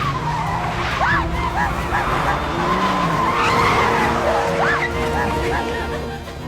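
A car emerges from a lake and drives toward the shore in a dramatized sound effect: a sustained roar of engine and skidding tires, loud and steady throughout, with squealing tones layered above the noise.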